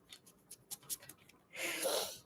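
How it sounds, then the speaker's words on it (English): A small pocket tarot deck being shuffled up close: a few quiet, brief card flicks and riffles, then a softer continuous swishing sweep of cards near the end. "It barely makes the shuffle sound."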